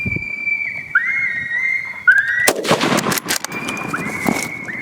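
A .223 Ruger American rifle fires at a coyote during a Kentucky hunt. A couple of sharp, loud cracks burst out near the middle, with thin whistling call tones sounding before and after.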